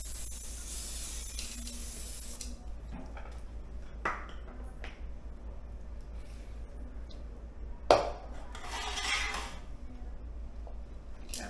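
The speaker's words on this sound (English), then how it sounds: "I'm gonna add a little cooking spray to it." Cooking spray hisses from a can onto a pan being readied for meatloaf, a soft airy spray near the start and another short burst later, set against quiet kitchen handling noises.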